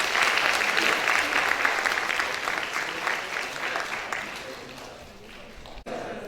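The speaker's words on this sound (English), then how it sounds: "Children, please give him a huge round of applause." An audience of schoolchildren and teachers claps loudly at a career guidance talk, a dense round of applause that gradually tapers off toward the end, with a brief thump and some talk.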